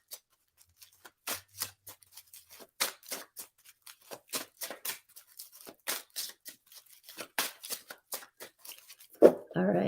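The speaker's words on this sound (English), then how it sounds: "One more shuffle." Tarot cards being shuffled by hand, a run of soft, crisp flicks and riffles in an irregular rhythm, close and fairly quiet, with a brief louder rustle at the end.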